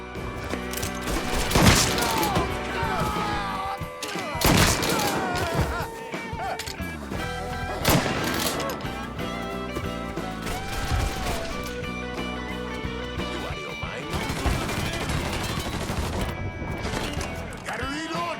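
Gunfire in Mafia 3, shots and crashing impacts over a tense game score, with loud bursts at intervals and voices shouting through the firefight.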